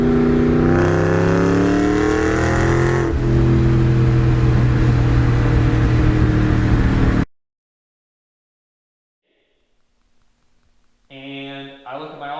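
A 2003 Ford Cobra pulling hard at half throttle, its engine note climbing loud and close for several seconds before cutting abruptly to silence, then a brief burst of sound returns near the end.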